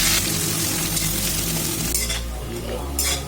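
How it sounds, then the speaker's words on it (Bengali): Three finely chopped onions drop into hot oil already seasoned with whole garam masala and cumin, a loud, close sizzle that swells and surges while a utensil stirs and clinks against the pan. "এবার আমি এখানে 3টে পেঁয়াজকে ছোট ছোট করে কেটে রেখেছি,"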